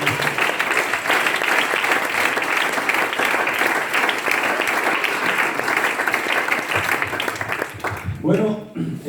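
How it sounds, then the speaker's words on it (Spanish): A congregation at a church inauguration service applauds steadily and loudly for several seconds, a dense wash of clapping that fades out at the end as a voice returns. "Un aplauso para el Señor."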